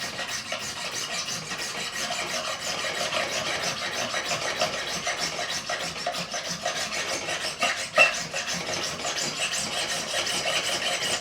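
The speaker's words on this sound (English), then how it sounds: "I always check that I've got the file facing the right way." A hand file scrapes steadily across the frets of a 1986 Hamer Chaparral guitar during a refret, in close, continuous rasping strokes with no talking.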